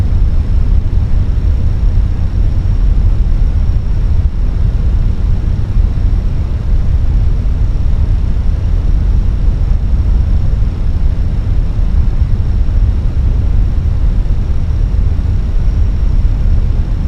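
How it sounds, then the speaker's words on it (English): Airbus A320 on final approach to land, a steady loud engine and airflow roar with a faint thin whine above it, unchanging and uninterrupted throughout. "Then we are ready to land this beautiful aircraft here."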